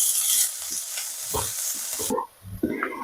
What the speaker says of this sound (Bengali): রসুন আর আদা গুলো যখন একটু ভাজা হয়ে যাবে, তারপর আমি দিয়ে দিচ্ছি পেঁয়াজ কুচানোটা,